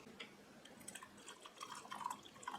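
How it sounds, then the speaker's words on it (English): Hot water trickles from the spigot of a Reed and Barton Winthrop samovar, a faint, quiet pour with small splashing drips and no talk. "let's go ahead and pour some hot water here"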